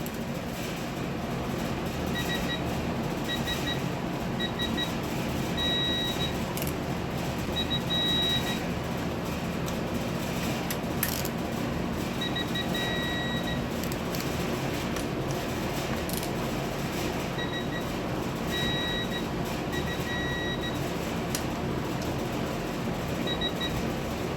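A digital torque wrench gives repeated short, high beeps in small clusters while oil pan bolts are tightened on a 2013 Toyota Venza 2.7L, set over steady workshop background noise with no talking.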